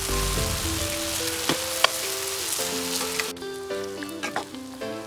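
Okra (bhindi) frying in oil in a pan for an Indian-style sabzi, a steady loud close sizzle with occasional utensil clinks as the pieces are stirred, no talking.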